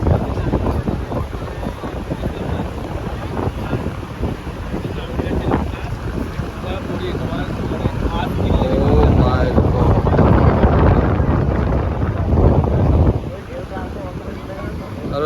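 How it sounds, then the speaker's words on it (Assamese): Sea waves washing in at Digha Beach, a steady broad roar under heavy wind buffeting the microphone, swelling louder near the end before easing off. "আপোনালোকে দেখা পাব সাগৰৰ লেহাৰবিলাক"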